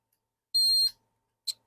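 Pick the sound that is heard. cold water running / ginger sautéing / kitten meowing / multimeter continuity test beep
multimeter continuity test beep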